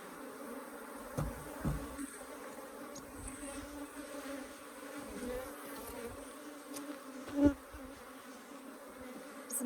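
Africanized hybrid honeybees buzz steadily around an open hive in southern Arizona, a dense, continuous drone with a few louder passes close by and no talking.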